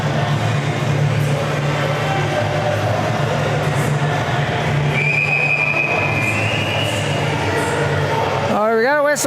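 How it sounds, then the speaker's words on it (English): Referee's whistle at an ice hockey playoff game, a rising and falling shrill tone near the end, heard over steady crowd noise and arena hum, with a faint sustained tone earlier in the mid-range. "we got a whistle"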